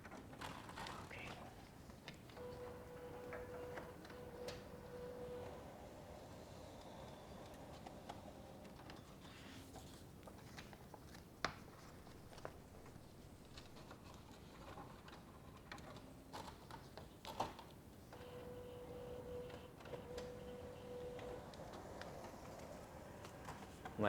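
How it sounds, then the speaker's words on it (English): Printer mechanism working during sublimation and cotton printing, a quiet run of ratcheting, clicking and whirring gear sounds with repeated tonal motor passes and occasional sharp ticks. "My printer is refusing to cooperate with me."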